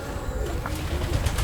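A pigeon coos softly within a steady, noisy background, low murmuring calls blending into a constant rumble.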